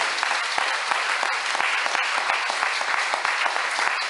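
Church congregation applauding during a worship seminar, steady dense clapping from many hands filling the room, fairly close and sustained throughout.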